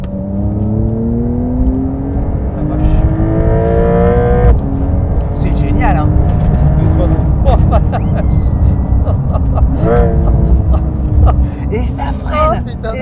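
A Porsche 911 Carrera GTS Le Mans Centenaire Edition pulls hard at full throttle: a loud, close engine wail climbs repeatedly in pitch, with short breaks at each upshift, over heavy road and wind roar.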